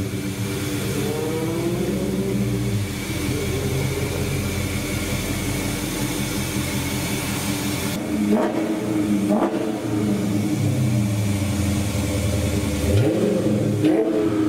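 A 2016 Chrysler 300C SRT8 engine idles with a deep rumble, then revs sharply three times, each rise and fall of the motor loud and close.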